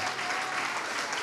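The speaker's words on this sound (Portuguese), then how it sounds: "Vamos aplaudir mais ao nome de Jesus." A church congregation applauds steadily, a dense, even wash of clapping hands that fills the room without pause, with faint voices mixed in beneath.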